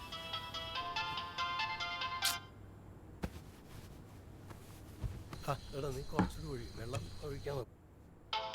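A mobile phone's tonal ringtone chimes for about two seconds in a Malayalam drama, then cuts off abruptly, followed by quiet background and someone speaking.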